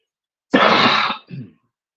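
A single harsh, loud cough, followed by a shorter, quieter throaty catch, then silence.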